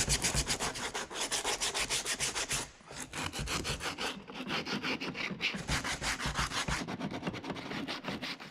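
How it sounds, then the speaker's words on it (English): Car bumper sanded by hand with 80 grit sandpaper into the corners, producing a fast, continuous rhythmic scratching of back-and-forth strokes, close and steady with a brief pause midway. "I'll get into all the corners by hand with 80 grit and then go over the whole thing also."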